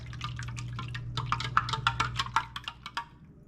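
White wine is poured into a pan during cooking, splashing in a quick run of close, bright drips and spatters that grow busier midway before trailing off.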